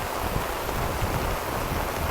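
Steady rain falling outdoors by an organic garden, a continuous broadband hiss with some low wind rumble, close and even, with no talking.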